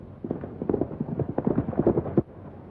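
Horse hooves clip-clop on hard ground as a rider approaches, a brisk, fairly close run of hoofbeats that stops abruptly near the end.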